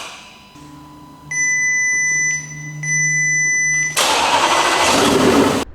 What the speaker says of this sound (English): trying to figure out exactly how this engine is able to start